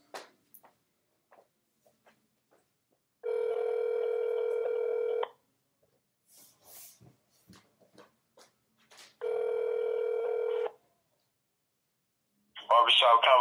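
Telephone ring tone over a phone line: two long, steady electronic rings a few seconds apart with a quiet pause between them, faint scattered noises in the gap and a brief louder burst at the end.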